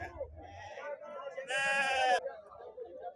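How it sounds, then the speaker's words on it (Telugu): Goats bleat at an outdoor livestock market, one loud, harmonic, quavering bleat lasting under a second, close by, with people talking before and after it. "ఈ విధంగా ఉన్నాయి మేకలు అయితే"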